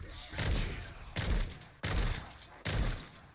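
Heavy gunfire in a video game, four loud, booming blasts spaced at roughly even intervals, each followed by a short rumbling decay.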